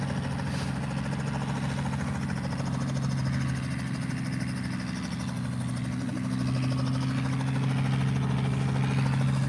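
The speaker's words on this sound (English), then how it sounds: "And there goes the R-44." A Robinson R44 helicopter departs an aerodrome, its steady rotor and engine drone loud and continuous throughout with a strong low throbbing hum and no talk.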